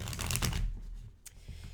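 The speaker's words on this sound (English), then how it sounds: "So let's shuffle these cards up really quickly." A deck of tarot cards is shuffled by hand in a brisk burst of papery riffling and flicking that fades into a few softer taps.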